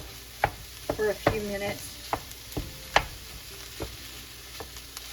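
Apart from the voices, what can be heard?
sausage frying and being broken up in a pot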